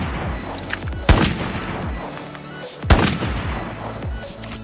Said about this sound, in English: it allows you to use your sniper in burst mode